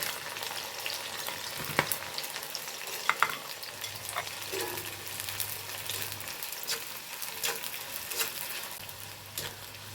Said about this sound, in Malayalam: ആദ്യം വെണ്ടയ്ക്ക കേട്ടോ ഞാൻ വറുത്തെടുക്കുന്നത്